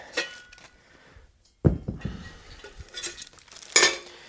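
Metal cooking grate on a Cobb Premier charcoal barbecue lifted and set down, giving a sharp metallic clunk followed by scraping rattles and another clank near the end, close and fairly loud.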